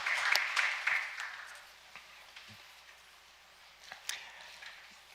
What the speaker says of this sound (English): please welcome our moderator with a big round of applause